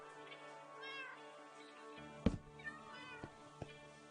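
A cat meows several times, each call clear and close, with a few sharp knocks and clicks in the room toward the end.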